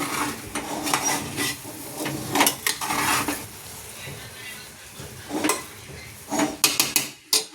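A spoon stirs semolina sheera in a metal pot for temple offering, giving intermittent scraping and clinking strokes up close, with short quiet gaps between bursts.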